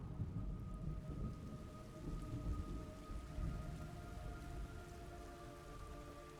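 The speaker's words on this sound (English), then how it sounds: "It's raining blood." Steady heavy rain in the video game Metal Gear Solid Delta, a dense continuous patter with low rumbling underneath and sustained tonal music lines, holding at an even level throughout with no voices.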